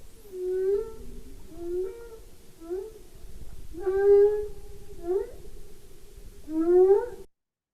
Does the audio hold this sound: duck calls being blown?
no